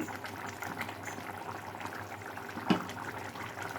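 Chicken curry bubbles in a pot on the stove, a steady soft burble and wet popping throughout, with one sharper clack of a lid or utensil near the end.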